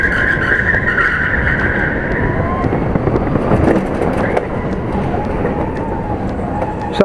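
Indoor go-karts racing around a track, a continuous loud engine drone with rising and falling revs and occasional tyre noise, heard close from the kart.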